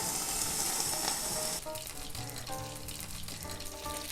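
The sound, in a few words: water added to pan frying kimchi dumplings, sizzling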